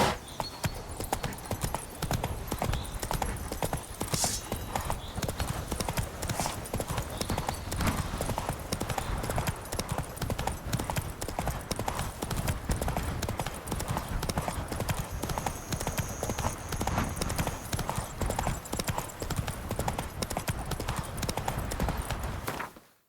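Roach the horse gallops in Witcher 3, a steady unbroken run of hoofbeats clip-clopping close and loud, with a brief high tone partway through and no talk over it.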